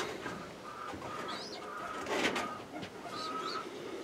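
Pigeons in a new village dovecote give repeated soft cooing calls, fairly close, over steady outdoor background noise.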